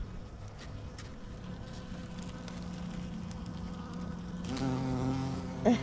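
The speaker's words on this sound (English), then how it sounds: "I'm hearing a busy bee." A carpenter bee and a honey bee buzz in a tropical fall garden, a steady low drone close by that grows a little louder toward the end.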